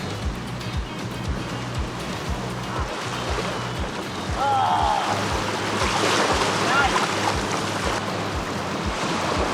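Indian Ocean waves wash steadily onto the shore with a broad, continuous rush, along with wind buffeting the microphone and a low rhythmic thumping that grows a bit louder partway through.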